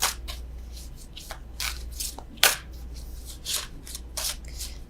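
Tarot cards are shuffled by hand in a quiet room: a series of crisp, close riffling bursts and soft slaps come at an irregular rhythm, with no talk over them.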